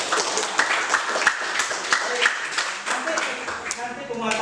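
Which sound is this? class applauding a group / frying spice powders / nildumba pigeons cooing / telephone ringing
class applauding a group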